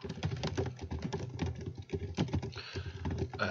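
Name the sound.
typing answers on a computer keyboard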